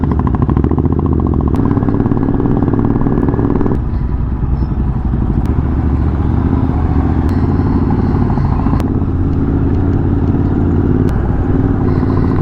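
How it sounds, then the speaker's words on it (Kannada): A Royal Enfield Classic 350 motorcycle thumps steadily as it is ridden along a road, with a loud, close engine drone and wind rumble that continue throughout, broken only by a few faint clicks. "ಸೊ ಇದು ಕ್ಲಾಸಿಕ್ 350."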